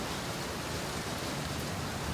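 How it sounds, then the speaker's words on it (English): Steady, dense rain falls outdoors along a road in Alaska, a continuous even wash of noise with no distinct thunder claps. "which in turn turned to the sound of thunderstorm and rain"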